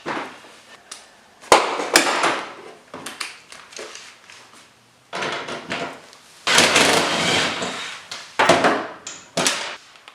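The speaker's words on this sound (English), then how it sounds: "Gonna go with the wrench." Metal clanks and sharp clicks ring out as a wrench works a seat bracket bolt loose on a Jeep CJ7. The knocks and scrapes come in irregular bursts with pauses, close and fairly loud.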